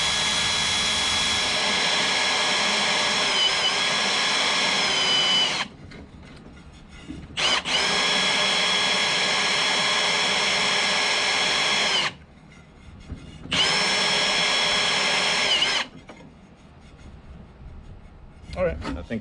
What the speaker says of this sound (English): we're just going to drill until you start to feel the resistance let up.